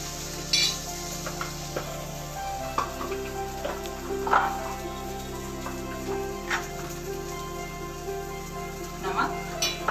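Halwa made from guava roasting in ghee in a pan, giving a steady low sizzle with scattered light stirring scrapes and ticks throughout.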